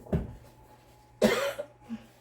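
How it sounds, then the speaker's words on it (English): Two separate coughs, one short and one heavier, with a small throat sound after, close up in a quiet room. "Maybe it was a cough and not a sneeze."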